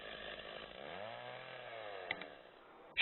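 A Stihl 066 chainsaw runs continuously, its engine pitch rising and falling smoothly in a sustained buzz. A sharp click comes near the end.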